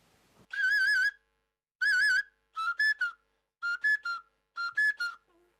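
A giant human-sized clay whistle, made from about 300 kilograms of clay, is blown in five clear, loud, warbling tones, the first two long and steady, the last three broken into quick pulses, with silence between them.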